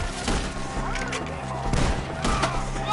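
Gunfire in a PS4 shooting game, with bursts of rapid shots and booms layered over continuous battle noise, while voices shout over the top.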